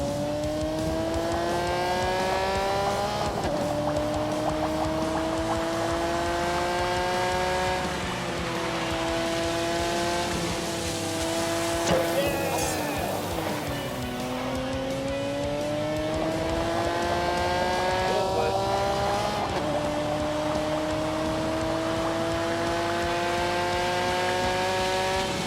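A car engine at full throttle in The Grand Tour video game, loud and sustained, its pitch climbing and dropping through several gear shifts over about twenty-five seconds, with no talk.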